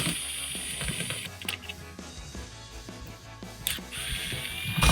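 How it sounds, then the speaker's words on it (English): A ratchet clicks rapidly while backing out T20 screws on the third brake light of a 2014-2018 Chevrolet Silverado, with close, repeated pawl ticks and a few brief metallic scrapes. "I'm going to start by removing the 2 T20 screws."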